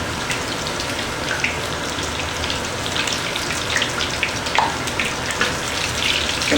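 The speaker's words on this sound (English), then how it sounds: "I am ready to start frying" Potato latkes frying in hot oil in a pan, a steady, loud, dense crackle and sizzle that continues throughout with no talking.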